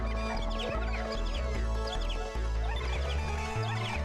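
A bird-suit character in the Sega video game Skies of Arcadia makes rapid chirpy, clucking bird calls. They repeat over a steady backdrop of game music and sound effects.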